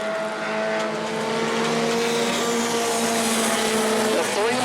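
Race cars roaring down the back straightaway of the oval at New Smyrna, a loud sustained engine howl with rising pitch as they power through, under a track announcer's commentary.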